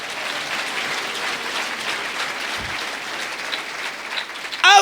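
Steady applause from a church congregation honouring Jesus Christ, dense and sustained for several seconds, ending with a brief louder burst at the close.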